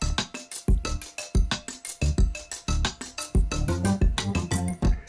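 A punchy synth bass with a small, tight reverb in a music production plays a fast rhythmic line of short, repeated notes with sharp attacks, loud and upfront with no voices.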